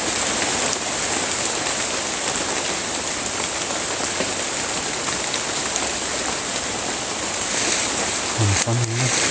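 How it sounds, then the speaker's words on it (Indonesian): Rainwater drips and patters from trees near a reservoir dam, a dense steady hiss of drops filling the scene with no break. "rembesan ini loh, air hujan yang jatuh di pohon ini"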